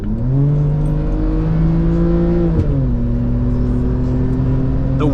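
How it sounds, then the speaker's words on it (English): A 2006 car with a naturally aspirated six-cylinder engine accelerates hard from inside the cabin, its steady rising engine note climbing through a gear, dipping briefly at a shift, then pulling again, loud and continuous throughout. "The way she picks up for a 2006 naturally aspirated 6-cylinder."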